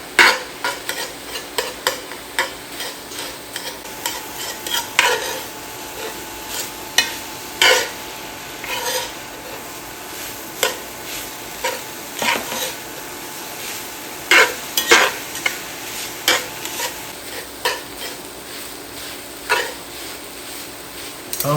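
Louisiana dirty rice of rice and meat stirred and scooped in a sizzling pan, repeated close scrapes and knocks of a utensil over a constant frying hiss, with no talk.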